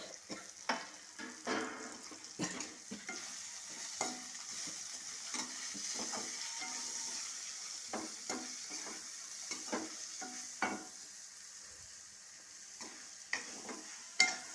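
Tamarind leaves being stirred in a cooking pan, with a steady soft sizzle of frying and intermittent scraping stir strokes, close and moderately quiet, with no talking.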